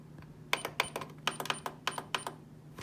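A sewing machine stitches across the bottom edge of a cork wallet, giving a series of sharp, close clicks in an uneven rhythm, spaced about a quarter to half second apart, with no talking.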